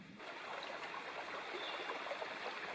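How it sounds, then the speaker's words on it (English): A gurgling creek runs right beside a tent at a backpacking camp in Tennessee's Martha Sundquist State Forest, on a July morning. The water trickles steadily and close at hand, with no voices. "The gurgling creek right beside my tent."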